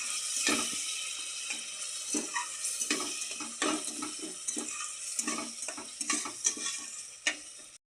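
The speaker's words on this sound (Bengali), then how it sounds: "এবার আমরা এর ভিতরে জল ঢেলে দেব" Water poured into a sizzling red spice mixture in a pan while cooking a vegetable dish, with stirring scrapes and clatters over a steady hiss, no talking.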